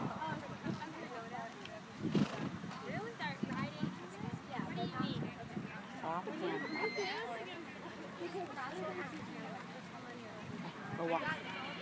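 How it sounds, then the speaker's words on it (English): Horses trot with rhythmic hoof clops at a judged horse show amid crowd chatter and a voice calling out over a loudspeaker-like murmur. "trot your horses, please all trot."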